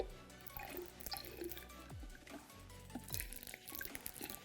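IGL cleaning liquid poured into a container, a faint trickle and gurgle of liquid with rising glugging tones, quiet and close.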